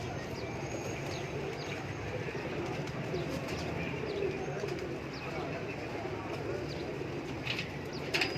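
Pigeons from a breeding set in Lahore cooing in a loft, low repeated murmuring coos over a busy background with occasional faint chirps and light clattering.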